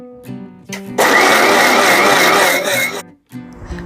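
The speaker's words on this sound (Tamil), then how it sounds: "ஆட் பண்ணி அகைன் வந்து நல்லா ஒரு ஸ்மூத் பேஸ்ட்டாக அரைச்சி எடுத்துக்கலாம்" A kitchen blender grinds paneer with milk into a smooth pasta sauce, a loud whirring burst of about two seconds, with quieter mechanical hum before and after.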